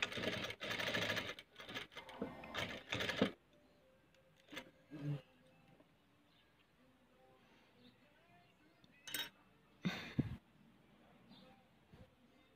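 A sewing machine stitches together the fabric edges of a homemade washable cloth face mask, running in short bursts at the start and then briefly twice more, separated by quieter handling sounds.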